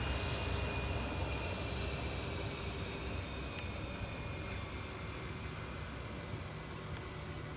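An Air Transat airliner taking off at Glasgow Airport produces a steady, fairly faint roar of jet engines heard from a distance, a continuous broadband rumble with no voices.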